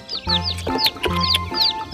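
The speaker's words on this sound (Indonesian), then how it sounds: "Kita pindahkan ayam-ayam rainbow ini." Several colorful rainbow-dyed chickens cluck loudly and close by in repeated short bursts, with sharp chirping calls layered over a steady low hum.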